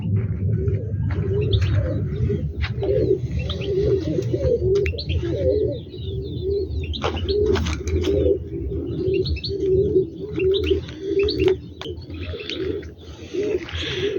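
Turkish tumbler pigeons coo continuously in a low, rolling chorus, with occasional sharp chirps and rustles nearby, loud and close.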